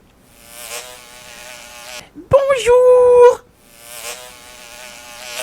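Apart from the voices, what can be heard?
buzzing of a big fly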